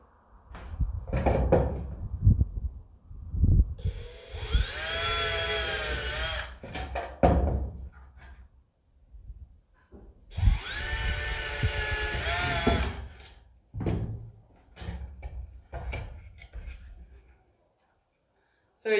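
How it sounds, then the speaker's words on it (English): A power drill pre-drills screw holes in wood for a DIY birdhouse, whining loudly in two sustained bursts of a few seconds each, surrounded by handling clunks and a voice talking. "Pre-drill our holes."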